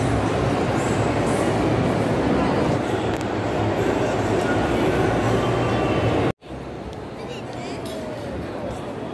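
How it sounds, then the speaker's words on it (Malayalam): A Kochi metro train runs with a steady, loud rumble of wheels and carriage noise from inside, cutting out briefly before continuing somewhat quieter, with voices faintly underneath. "മെട്രോ തന്നെ തിരിച്ച് റെയിൽവേ സ്റ്റേഷനിലേക്ക് പോവുകയാണ്"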